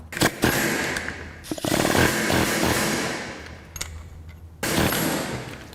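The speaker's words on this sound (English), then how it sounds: "We're just gonna air hammer it really quick, boom, boom, boom." Pneumatic air hammer loosening a notched nut, delivering loud, harsh rattling bursts in several close-up runs separated by brief pauses.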